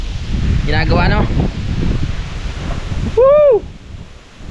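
Strong wind gusts outdoors in a vegetable garden, a loud rushing rumble buffeting the microphone, with a short human call or whistle cutting through near the end.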